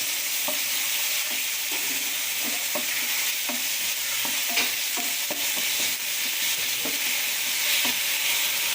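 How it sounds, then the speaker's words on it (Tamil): Ginger garlic paste sautéing in a pan: a continuous close sizzle with repeated rhythmic scrapes of a spoon stirring, no voices. "இஞ்சி பூண்டு விழுது இதையும் வதக்கலாம்"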